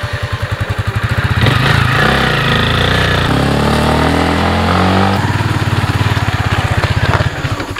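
Habal-habal motorcycle taxi engine running close and loud, a rapid pulsing putter that swells into a steady rev for several seconds, then drops back to a throbbing idle.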